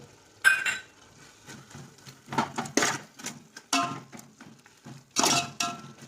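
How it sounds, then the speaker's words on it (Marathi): A spoon scraping and knocking in a pan as spiced vegetable curry is stirred and sautéed with turmeric and onion-garlic masala, giving irregular clinks and scrapes in short bursts, close and moderately loud, with no talk. "छान भाजीला तेल सुटेपर्यंत आपल्याला हे परतायचं आहे"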